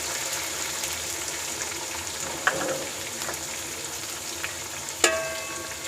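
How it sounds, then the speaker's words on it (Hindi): Finely cut ginger and green chili sizzling in chicken karahi, with a steady close frying hiss and a few scraping stirs and clinks from the pan. "अदरक जो बारीक कट की थी, अदरक और ग्रीन चिली ऐड कर देंगे।"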